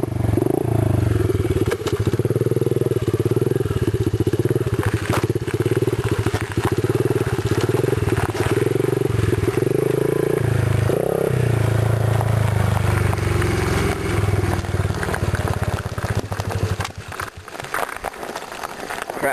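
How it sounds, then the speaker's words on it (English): A motorcycle engine idles and runs roughly at close range, its steady low rumble turning ragged and sputtering toward the end as it dies out. "Crap, the bike stalled."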